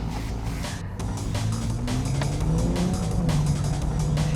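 A 2023 Nissan Z sports car driving, engine droning steadily and rising in pitch as it accelerates, heard close from inside with continuous road and tire noise and no talk.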